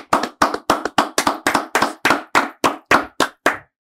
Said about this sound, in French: Applaudissements total pour Kenya West.